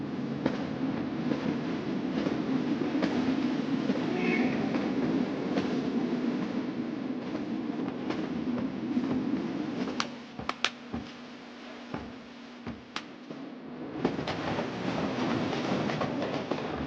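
A train rolls along with a steady, loud rumble and rattle heard from inside, broken near the end by a few sharp clacks and brief drops in the noise.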